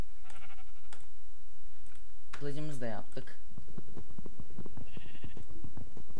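Sheep bleating in the video game Minecraft, one wavering bleat rising clearly for about half a second amid steady clicking and game sounds, with someone talking over most of the clip.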